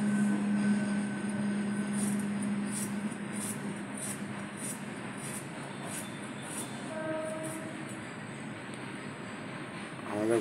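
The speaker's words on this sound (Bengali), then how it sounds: "ট্রেন যাচ্ছে, আওয়াজ শোনা যাচ্ছে" A train passing beside a house, a long continuous rumble of rolling cars with rhythmic wheel clatter and a horn-like tone early on, fairly near and loud over about ten seconds.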